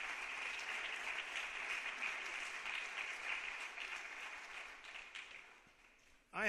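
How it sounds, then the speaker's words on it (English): Applause from an audience at a National Junior Honor Society induction ceremony in honor of the students' families, a steady, fairly distant wash of clapping that holds for several seconds, then thins out and stops. "Let's give your families a nice round of applause"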